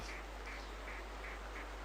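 Five short duck quacks from theHunter Primal, a hunting video game, repeating at a steady rhythm about every third of a second, moderately faint and distant, heard alone over a constant low background hum.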